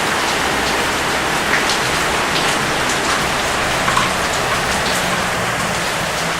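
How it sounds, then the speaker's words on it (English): Heavy rain pours down just before sunrise, a dense, loud, unbroken hiss of drops drumming on surfaces with no voices. "it is pouring with rain"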